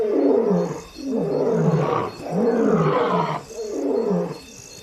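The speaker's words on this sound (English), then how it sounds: "Their roars travel further after dark when the air is cooler." Lions roar at night near the Luangwa River in the African savanna, giving a close, loud series of deep, rhythmic roars with brief pauses between them.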